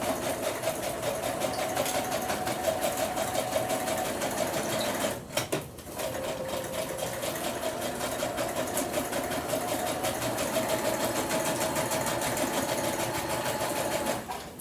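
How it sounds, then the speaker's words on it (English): A sewing machine stitches down the sides of glassine pockets with a rapid, steady mechanical whir. It runs close and continuous, with one brief pause partway through before stitching resumes. "Let me just stitch this down the sides"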